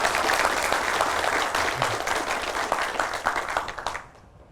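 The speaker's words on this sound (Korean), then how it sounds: "박수 한번 쳐드리시죠." Room full of education office staff at a monthly staff assembly clapping together, a dense, close round of applause that holds steady and then dies away near the end.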